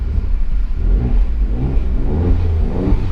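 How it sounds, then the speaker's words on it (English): A 503 bhp Alfa Romeo Stelvio Quadrifoglio revving in neutral in traffic, a loud, deep engine roar that rises and falls steadily the whole time. "I'm going to put it in neutral and rev it in traffic"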